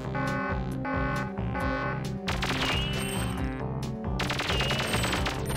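Rapid automatic gunfire from the N64 shooter Perfect Dark, dense bursts of shots over a looping game soundtrack, loud and continuous with brief gaps, no talking.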